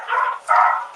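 Two quick, loud dog barks in succession, close and alone.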